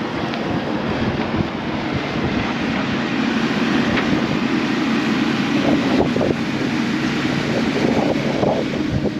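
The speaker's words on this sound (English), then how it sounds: "it's windy." Strong wind blows across open farmland, a continuous loud, rushing roar buffeting the microphone with steady low rumbling throughout and no voices.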